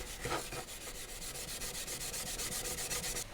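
A Scotch-Brite pad scrubbing brass on a 1963 paper cutter, heard as close, rapid, rhythmic rasping strokes in an even back-and-forth pattern.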